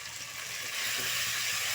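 Ground spice powder and tomato frying in oil in a pan, a steady close sizzle that holds through the whole moment with no voices.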